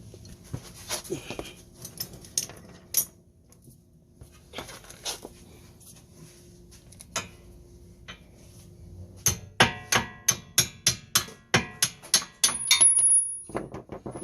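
Bolt removed from a Toyota Highlander's lower control arm and the suspension part knocked loose, heard as scattered metallic clanks and then a fast run of sharp, loud impacts close by. No one speaks.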